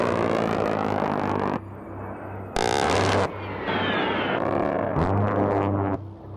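Roaring jet noise from an A-10 Thunderbolt II Warthog military ground-attack aircraft, loud and close, broken into several abrupt segments with short shifts in pitch and texture.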